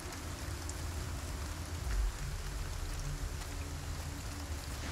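Steady rain in Resident Evil 4 hisses and patters continuously at a moderate level, with a low rumble underneath and no voices.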